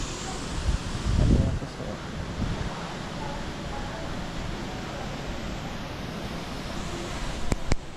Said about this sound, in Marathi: तिथं समोर धबधबा आहे